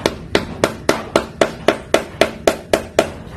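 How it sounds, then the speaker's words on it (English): A mallet strikes a screw being driven into the metal part of a crankshaft rear main oil seal on a Nissan/Infiniti VG33E engine, about a dozen sharp, evenly spaced knocks, close and loud, with no talking. "So we're going to take our mallet"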